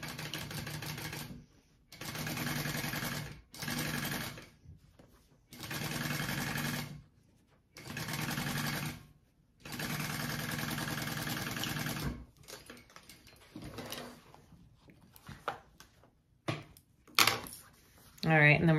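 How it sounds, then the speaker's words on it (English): A sewing machine stitches a bag's front slip pocket along the seam allowance, running in several steady whirring bursts separated by short pauses, then breaking into shorter uneven runs and handling noises toward the end. "we're gonna sew that on at our seam allowance"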